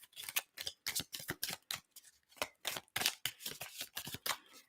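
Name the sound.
shuffling tarot card decks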